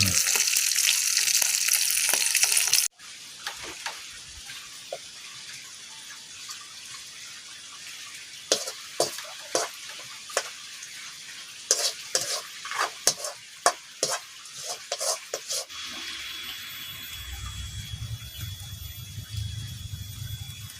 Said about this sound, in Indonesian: oseng bawang kucai